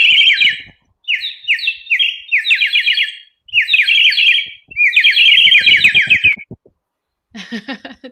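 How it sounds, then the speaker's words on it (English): Birds chirp in several bursts of rapid, bright trills and warbles, loud and close, separated by short pauses, ending with a fainter call. "perhaps I'll let the birds chirp for you"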